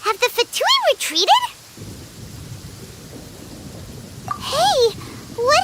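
A thunderstorm in the video game Genshin Impact, with steady rain hiss and low rumbling under animated, high-pitched voices that speak at the start and end of the passage.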